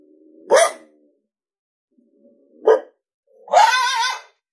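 Coyote growls played from a Boss Coyote Mayhem Pak electronic caller: two short, separate growling bursts, then a longer, rougher growl, each loud and close, with silence between.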